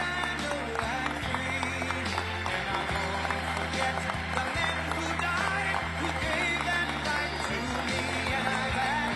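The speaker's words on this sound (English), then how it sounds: "clapping like trained seals as Trump sways from side to side with everybody clapping" An audience in a room claps for Trump, a dense, steady patter of many hands sustained throughout, with music or a low droning tone underneath.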